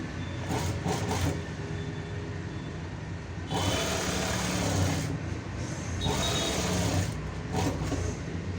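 A sewing machine stitches along the folded edge of a semi patiala pant. It runs close in bursts of a few seconds each, with short pauses between runs.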